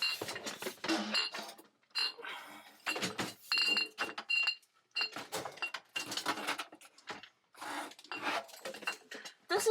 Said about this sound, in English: let me put this camera down so I can grab the dye pans.